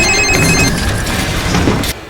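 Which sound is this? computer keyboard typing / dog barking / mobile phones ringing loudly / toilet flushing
mobile phones ringing loudly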